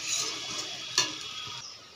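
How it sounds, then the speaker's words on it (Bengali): Semolina fries in a pan for a spicy breakfast dish, a steady close sizzle with scraping stir strokes, one sharper scrape about halfway through. "সুজিটা দিয়ে একটু ভেজে নেব।"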